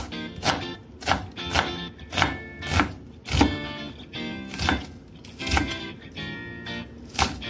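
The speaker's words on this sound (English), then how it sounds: "so we're going to do the onion like this" A knife chops an onion on a cutting board for a Mexican salad, giving steady, close, crisp strikes roughly every half second, loud and clear with no talk.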